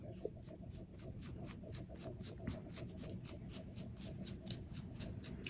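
Scissors snipping through cotton wick for a Wotofo Profile RDTA vape coil build, a steady run of small close, soft crisp cuts repeating with no talking over them.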